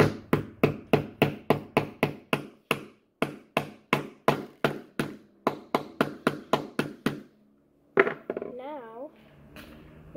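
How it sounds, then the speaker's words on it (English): Short nails are hammered into a wooden wheel with a rapid, steady run of sharp, close hammer blows, about two dozen in all, then a pause and a brief wavering squeak with some handling noise. "Put it in the wheel, and then hammer."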